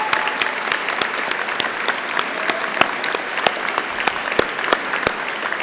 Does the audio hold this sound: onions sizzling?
no